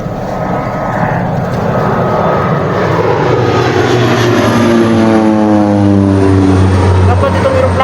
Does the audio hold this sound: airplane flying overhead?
yes